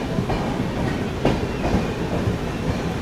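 The Samata SF Express rolls steadily on the rails with a continuous loud rumble and faint clickety-clack heard from inside the train, and no voices.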